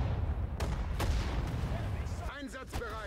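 Artillery cannons fire in the World War II strategy game Sudden Strike 4, with two sharp blasts ringing out over a dense, rumbling battle bed before a voice talks near the end.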